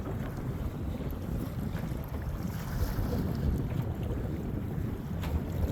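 Steady wind buffeting over open water on the Chesapeake Bay from a Native Titan 10.5 kayak, a constant low rumble with light wave wash and no voices.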